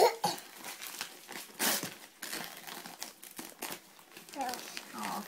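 Paper crinkling and tearing as a parcel is unwrapped during a pass-the-parcel game, close and intermittent rustling with a loud crumple burst, under a child's and an adult's voices.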